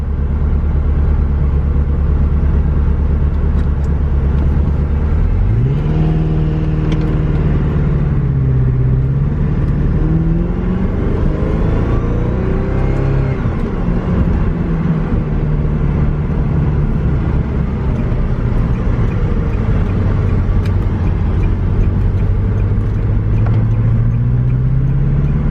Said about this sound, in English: we'll go ahead and take it down the road and shift through a couple gears to make sure it's really working right.